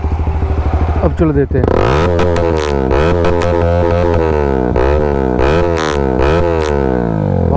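Bajaj Pulsar NS200 2024 motorcycle fitted with an Akrapovic exhaust, revving loudly and close up in repeated rising and falling throttle blips, with someone talking over the engine.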